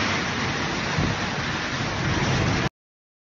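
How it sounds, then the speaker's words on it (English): A sudden hailstorm with heavy rain and thunder in Rome, a dense, steady roar of hail and rain pounding surfaces, loud and close throughout, ending abruptly. "the Italian capital was struck by a sudden hailstorm"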